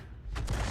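Tank artillery firing in World of Tanks, a tier 10 battle with a Bat.-Châtillon 155 55: a single low, muffled boom swelling up at a moderate distance.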